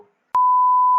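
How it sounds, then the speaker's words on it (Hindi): A single loud, steady censor beep tone cuts in abruptly and holds for most of a second, bleeping out a nickname after a brief trace of speech. "कुछ निकनेम डाल दिया और यहाँ पे बीप वाली आवाज डाल दियो"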